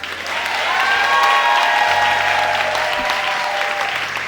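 A church congregation cheers and applauds, a broad wash of clapping that swells and holds steady, with crowd voices and tones mixed in and no single clap standing out.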